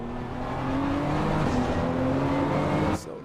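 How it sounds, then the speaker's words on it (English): Porsche race car engine in a night racing video game at Laguna Seca, a loud sustained drone with shifting engine tones for about three seconds that then drops sharply in volume near the end. "that's why the sound of the car gonna go down"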